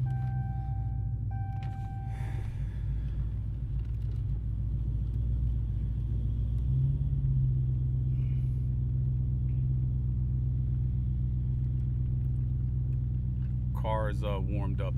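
A 2021 Dodge Challenger Hellcat Redeye Widebody, modified to 1300 hp with a 4.5 Whipple supercharger, runs warmed up with a steady, deep idle rumble that holds close and loud throughout and shifts slightly in tone partway through.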